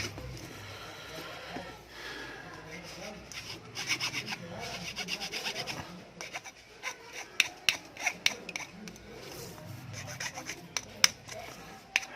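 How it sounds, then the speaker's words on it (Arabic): A metal file rasping burrs off the broken lug of a Casio watch strap, close-up repeated scraping strokes, quicker and sharper toward the end with a few small clicks. "بعد كده هنجيب مبرد ونشيل الريش اللي فيها"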